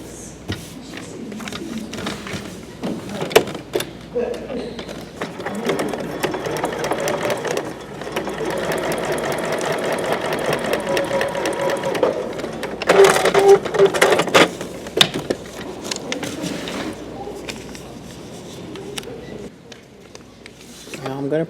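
A sewing machine stitches along a line on a paper-pieced quilt block, running in bursts of steady close whirring with pauses for handling, while a person talks in the background.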